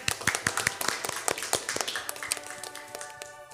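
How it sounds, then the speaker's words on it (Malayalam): Scattered audience clapping at a children's action-song show, distinct sharp claps at an uneven rhythm rather than a dense roar, with a faint tonal hum beneath and no talking. "ഈ സ്വർഗത്തിൻ്റെ വക ഒരു ബിഗ് ക്ലാപ്പ്"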